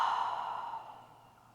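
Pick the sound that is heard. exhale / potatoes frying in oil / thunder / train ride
exhale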